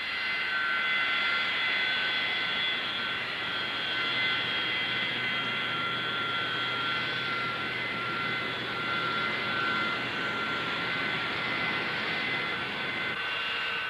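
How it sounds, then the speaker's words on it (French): A defense minister's airplane comes in to land at Tabuk in 1977, a steady jet engine whine and roar holding at moderate distance throughout, alone without talking. "L'avion du ministre de la Défense s'apprête à atterrir"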